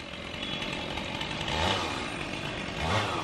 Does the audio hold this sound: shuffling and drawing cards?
no